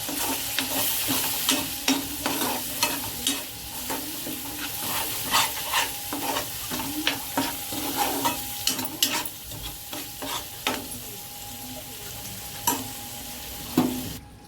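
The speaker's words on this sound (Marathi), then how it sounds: "थोडा वेळ आपल्याला परतून घ्यायचे." Salt-stuffed ridge gourd pieces with a ground masala paste being sautéed in a pan, giving a steady close sizzle with repeated scraping stirs of a spatula throughout, no talking.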